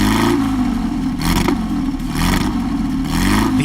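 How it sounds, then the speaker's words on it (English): Porsche 550 Spyder sports car with an all-aluminum engine, revving loudly and steadily with rising and falling pitch, several throttle blips close by, no talk. "The sound of the Spyder is unmistakable."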